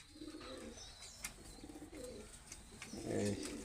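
A female breeding pigeon of the Ustad Mia Nazir bloodline coos quietly, a few low, soft rolling calls close by, ending in a slightly louder coo.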